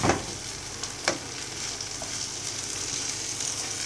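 Chicken wings with bell pepper frying in a pan, a steady close sizzle and crackle with a couple of sharp stirring knocks near the start.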